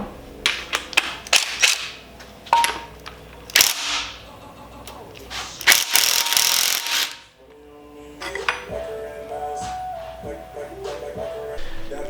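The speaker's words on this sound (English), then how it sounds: "I cheated there a little bit. I used an impact" Impact wrench loosening a bolt on an SR20DET cylinder head, heard as a series of sharp hammering bursts of varying length, loud and close, broken by brief pauses and ending in quieter mechanical handling noise.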